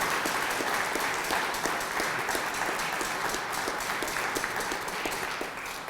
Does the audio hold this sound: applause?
yes